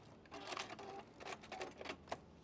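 A domestic sewing machine back-stitches at the end of a seam on a beginner's quilt block, giving several short, quiet bursts of rapid mechanical clatter with brief pauses between them.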